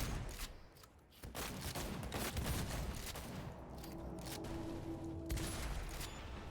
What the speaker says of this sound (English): I like this shotgun.